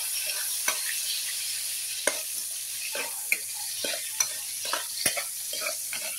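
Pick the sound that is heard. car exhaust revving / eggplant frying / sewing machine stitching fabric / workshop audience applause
eggplant frying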